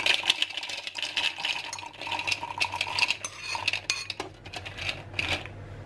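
200 grams of almonds poured into a food processor clatter and rattle against the bowl in a close, busy cascade of hard little hits, easing off toward the end.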